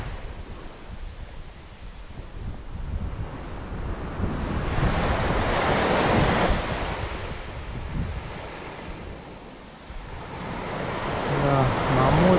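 Cold Arctic sea waves washing onto the shore at Teriberka in winter, a steady rushing surf that swells and recedes, with heavy wind buffeting the microphone.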